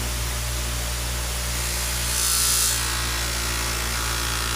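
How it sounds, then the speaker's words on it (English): A handmade knife is buffed against a spinning cloth polishing wheel, giving a constant loud whirring hiss with a brief swell of rougher friction partway through. "polish onto the cloth wheel. You can see the excess gets sprayed all over the place."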